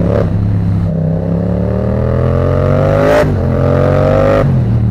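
All-black stealth motorcycle with an aftermarket exhaust, its engine revving loud and close in repeated rising pulls, broken by sharp throttle blips between gears.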